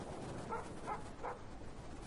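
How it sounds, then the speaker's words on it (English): A dog gives three short, faint barks roughly evenly spaced, a sound cue in the 1993 film Groundhog Day, set against a steady background hiss. "Dog bark."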